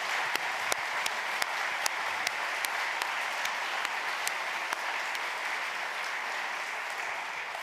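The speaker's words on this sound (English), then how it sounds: "can we have a round of applause?" Audience applause at an evening information night on the Indigenous Voice to Parliament in Kooyong, a dense steady wash of clapping from a sizeable crowd with a few sharper nearby claps standing out, continuing evenly at moderate volume without talk.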